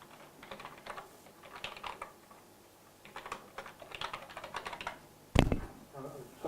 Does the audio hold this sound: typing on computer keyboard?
yes